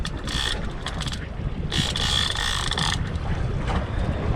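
A fishing reel's clicker ratchet buzzes in rapid bursts as a shark pulls line off it aboard a small inshore fishing boat, with steady wind and water noise underneath.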